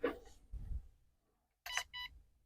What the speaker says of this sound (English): So you have 2 beeps and 1 beep.